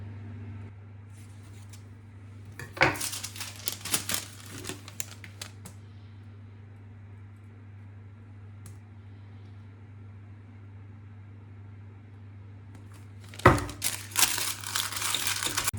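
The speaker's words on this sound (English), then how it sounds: "So I've just got my little pre-cut liners out. So I'm just going to line these now" Pre-cut paper cupcake liners being placed into a baking tin, bursts of crisp crinkling and rustling at close range, a busy flurry early on, then quiet, then another loud rustle near the end.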